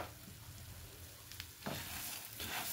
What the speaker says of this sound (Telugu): 1 స్పూన్ ఆయిల్ వేసాను, వేరుశనగ నూనె వేసాను, అలాగే 2 కప్పులు ధనియాలు.